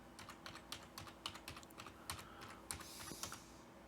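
An IP address typed on a computer keyboard, a quiet close run of steady key clicks with a few louder taps over faint background hum, no speech.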